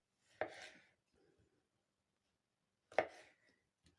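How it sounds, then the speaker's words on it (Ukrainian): Tomatoes are cut into wedges for a winter salad, two distinct close knife chops on a board separated by a quiet pause, with a faint soft knock in between. "Так, помідори я покришила."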